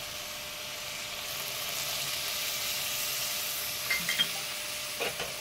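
Water poured onto black mustard paste in a hot pan for a vegetarian cauliflower-stalk chorchori sets off a steady broadband sizzle. Light scraping clicks from stirring come through near the end.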